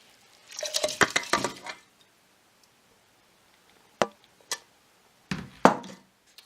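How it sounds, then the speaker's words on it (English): Soaked rice is poured into a cooking pot for Saudi chicken kabsa, a brief rattling, splashing rush followed by a few separate sharp clinks and taps, no voices. "Now it's time to put in your rice, which has been soaked for about 30 minutes."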